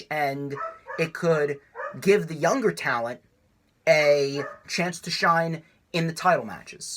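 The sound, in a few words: dog barking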